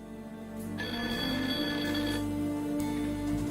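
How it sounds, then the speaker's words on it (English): Telephone ringing in the video game Blackwell Unbound, a repeated electronic bell ring that carries loudly and steadily through the whole short stretch with no talking over it. "I got the phone book and the phone's ringing again"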